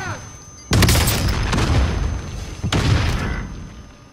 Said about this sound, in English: Too many grenades, bro.